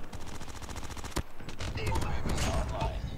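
Sustained automatic fire from a sentry gun in a first-person shooter video game rattles on loudly, with a sharp crack partway through and dense battle noise building afterward.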